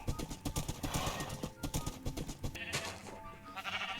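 Horses in Minecraft survival make quick hoof clopping and short whinnying, neighing calls in a busy, rhythmic burst, fairly faint and without talk.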